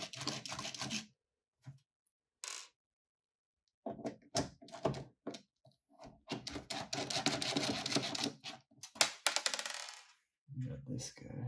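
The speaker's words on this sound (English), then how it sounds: "we're just gonna remove the screws that are holding it on here, these corner screws" Corner screws holding the power supply are removed from an Acer Aspire desktop, producing close metallic clicks, small clatters and scraping handling noises in irregular bursts separated by silent gaps, with no speech.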